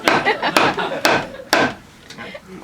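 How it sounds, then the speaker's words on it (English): A shoe used in place of a hammer strikes repeatedly, four or five sharp, loud, close knocks about half a second apart, ending in softer rubbing. "If you got no hammer, just improvise. That's a shoe."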